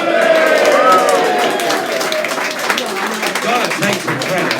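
A pub audience cheers and claps at a live politics debate night, a broad wash of applause and shouts that holds steady and close for several seconds, with scattered voices rising out of the crowd.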